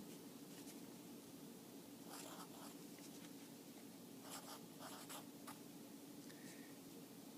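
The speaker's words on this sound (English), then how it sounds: "I'm going to copy down over here on my separate sheet of paper" Pencil writing numbers on a sheet of paper, heard as faint scratchy strokes in short bursts over a steady background hum, with no talking.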